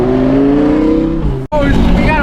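Cars at a supercar meet rev and roar close by, a loud engine note climbing in pitch before a brief cut, then another car accelerating hard with rising revs.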